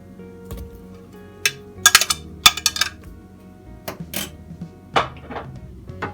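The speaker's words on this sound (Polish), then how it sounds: "Ziemniaczki wrzucam do miski." Boiled yellow potatoes tumble into a bowl in a home kitchen, a scattered series of short clinks and soft thuds against the dish, close and fairly loud over a quiet room hum.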